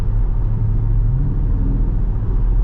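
A Dodge Charger Scat Pack widebody idles with a deep, steady low rumble, loud and close, holding an even burble with no revving and no voices over it.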